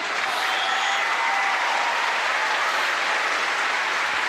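Steady, loud applause from a crowd at a Manchester United U21 versus Real Madrid U21 football match during a substitution, continuous clapping filling the whole stretch without a break.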